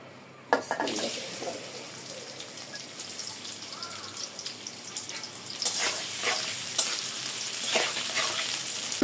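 Onions frying in oil for a chicken curry with potatoes, a steady crackling sizzle with stirring scrapes and a louder burst partway through.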